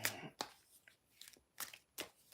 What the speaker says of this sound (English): as I was shuffling some of these decks